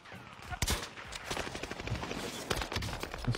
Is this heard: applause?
no